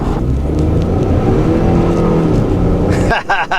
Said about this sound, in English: You hear the turbos spooling up and dumping boost